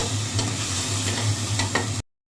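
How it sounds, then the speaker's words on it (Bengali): Spice masala frying with almost no oil in a pan for coriander chicken, a steady close sizzle with scraping stirs of a spoon across the pan, continuous and alone with no talk. "এবার এটাকে ভালো করে আমরা ভাজা ভাজা করে নেব"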